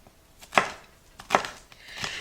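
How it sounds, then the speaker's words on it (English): A knife chopping bell pepper strips in half on a cutting board, three distinct close thuds spaced evenly apart with soft handling noises between them. "I'm going to cut the strips into half"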